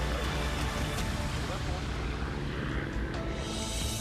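A rescue helicopter hovers close by, its rotor and engine making a loud, steady, dense roar that fills the whole moment without a break.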